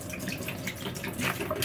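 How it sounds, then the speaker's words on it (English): Water tipped out of a full water bottle pours in a brief gurgling, splashing stream with small irregular bursts, moderately loud and close, without any voices. "I need to tip a bit out"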